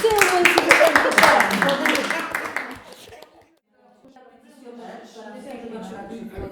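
An audience bursts into applause, dense clapping loud for about three seconds before fading to silence, followed by faint chatter and voices.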